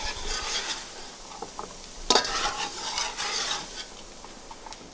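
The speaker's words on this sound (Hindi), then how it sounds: "पर अभी भी आप चलाते रहें क्योंकि वरना एक जगह से ज़्यादा हो जाएगा" Egg halwa stirred in a pan with the stove switched off, soft repeated scraping and stirring with faint sizzling, one sharper clink partway through.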